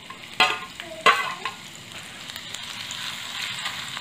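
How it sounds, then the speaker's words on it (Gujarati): Cumin seeds and fresh grated turmeric frying in hot ghee, with two sharp spatter bursts early on settling into a low, steady sizzle, close by and moderately loud, with faint stirring and no speech. "ઘી આપણું ગરમ થાય એટલે તેની અંદર 1/2 ટીસ્પૂન જીરું ઉમેરવું."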